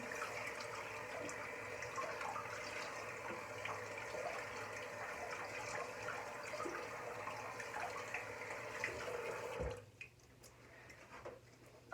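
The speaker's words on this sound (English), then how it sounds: "I'm just going to wet my face" Water running steadily into a bathroom sink while a face is wetted, a constant faint rush with small splashes, cutting off abruptly near the end.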